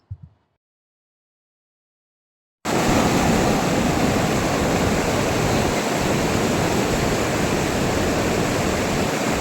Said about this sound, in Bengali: আমরা এবার একটু বসে নিলাম নদীর পাশে, নদীর এই স্রোতের শব্দ শোনার জন্য